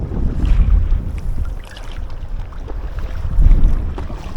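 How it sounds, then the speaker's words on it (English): Steady wind buffeting and choppy water slapping against an inflatable Aquaglide Chelan kayak on Ladybower Reservoir, with surging gusts and lapping waves throughout and no talk. "I've just turned back round to paddle into the wind for a little bit, just to kind of show you just how choppy it really is at the moment"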